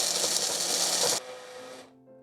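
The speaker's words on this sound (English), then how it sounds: "Now we need to grind up 150 grams of almonds." An electric grinder grinds 150 grams of almonds in a loud, close, harsh whir that cuts off abruptly after about a second, then spins down to a fading hum.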